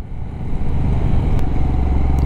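A motorcycle engine drones loud and close while riding, a steady rough rumble with a brief clatter partway, on a mountain road in the Himalayas near Sonamarg.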